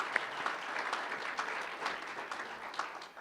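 Audience applause for the 2017 Hall of Fame inductees at an induction celebration, a steady wash of clapping from a crowd at moderate distance, fairly soft and even throughout with no talking over it.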